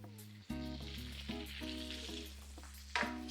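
Small sliced fish or vegetables sautéing with garlic and onion in a frying pan for a Filipino vegetable dish, a steady loud sizzle with periodic stirring scrapes and a sharp burst of frying near the end.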